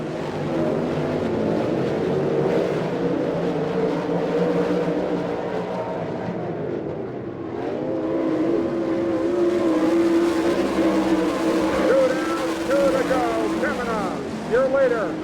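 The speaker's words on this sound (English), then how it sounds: "Kenny Jacobs will go after him off the second turn" Sprint cars racing on a dirt oval in an All Star Circuit of Champions event at Abbottstown, Pennsylvania, a steady roar of engines swelling and fading as the field laps, heard from the stands under a commentator calling the race.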